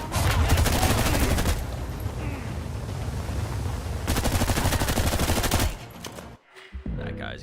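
Rapid automatic gunfire in The Expanse video game, loud continuous bursts of shots for several seconds with a short pause in between, then a sudden cut-off.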